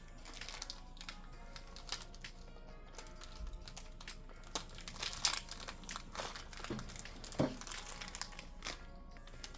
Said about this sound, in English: I'm struggling right now with this booster pack.